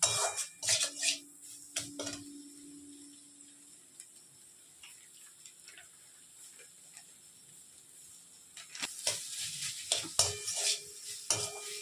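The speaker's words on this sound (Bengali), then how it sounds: "এবারে আমি এই ভেজে রাখা পটলগুলো এর মধ্যে দিয়ে দিচ্ছি, দিয়ে একটু নাড়াচাড়া করে জল দিয়ে দেবো।" Prawns and fried pointed gourd being stirred in a pan, with scattered utensil scrapes and clinks near the start and end and a quiet stretch between them.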